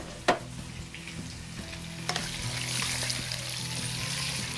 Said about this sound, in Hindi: चिकन को हम अच्छे से फ्राई कर रहे हैं